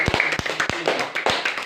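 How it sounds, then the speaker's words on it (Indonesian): Students clapping in an Indonesian primary classroom, with a handful of sharp, close claps in an uneven rhythm over brief, lively chatter from the room. "Tepuk tangan dulu."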